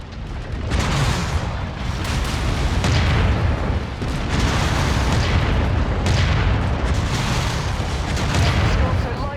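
A mech being destroyed in MechWarrior 5: Mercenaries, heard as heavy booming explosions and artillery-like blasts that roll on continuously and loudly from start to end, dense and sustained rather than isolated.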